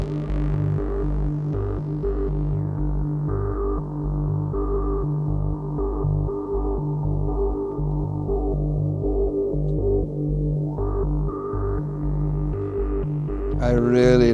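A filtered modular synthesizer lead plays a repeating pulsing low sequence with the upper tones muffled by a closing filter, steady and loud, then brightening sharply at the very end.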